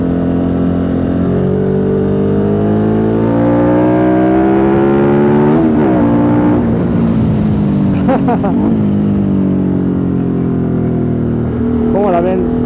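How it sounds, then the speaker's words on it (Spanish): A Ducati Multistrada 1200 engine runs loud and close, holding a steady, throaty idle with rising and falling revs while someone talks over it. "Y escuchen ese motor."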